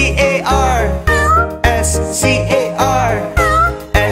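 A cat in a children's farm animals song meows repeatedly, loud and close, with rhythmic pitched meows over a steady musical backing.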